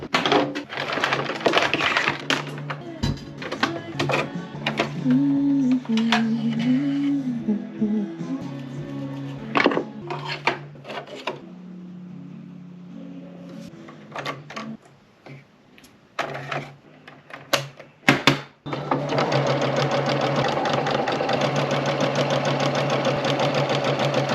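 A sewing machine runs in bursts as it stitches down the sides of a length of fabric, loud and close with uneven mechanical chatter, quieter gaps between runs, and a long steady stretch of stitching at the end.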